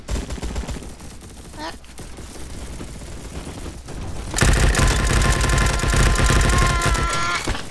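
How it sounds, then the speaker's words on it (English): A new gun fires in the video game Bad Business, with sparse shots and game sounds at first, then a sustained rapid burst of loud automatic fire over the last few seconds. "You're gonna test this new gun out."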